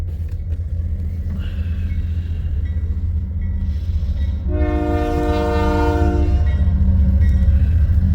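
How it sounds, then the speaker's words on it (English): A westbound empty coal train led by three locomotives rumbles steadily near Missouri Valley, Iowa, then a loud, sustained horn blast starts about halfway through and holds over the continuing rail noise. "We got 3 up front on this westbound empty coal drag."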